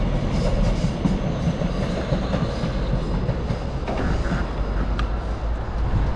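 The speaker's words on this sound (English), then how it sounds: "We're catching one of the trains still in use." A train still in service on the Aberbeeg railway rolls past close by, a steady loud rumble with faint rail clatter throughout and no voices.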